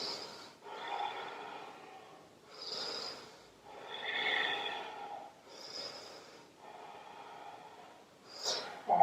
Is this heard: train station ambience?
no